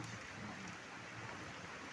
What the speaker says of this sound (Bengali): বুঝতে পারছি যে বাইরে বৃষ্টি হচ্ছে